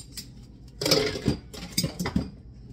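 Dishes, pots and pans clink and clatter during washing up after cooking salmon, several sharp metallic knocks in quick irregular bursts, close by.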